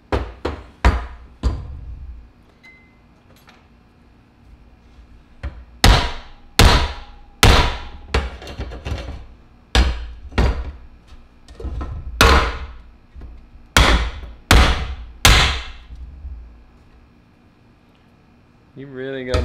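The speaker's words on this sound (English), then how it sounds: "We've hit it with hammers." A hammer strikes a carbon fiber bike frame, giving sharp, loud, ringing knocks in irregular bursts, about fifteen blows with short pauses between groups, each hit decaying quickly.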